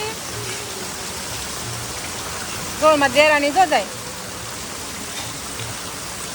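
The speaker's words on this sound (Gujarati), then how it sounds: "જો કેટલો વરસાદ છે, બહુ વરસાદ છે" Heavy rain hisses steadily throughout over a waterlogged market street in Surat, a dense wash of falling water, while someone speaks briefly in the middle.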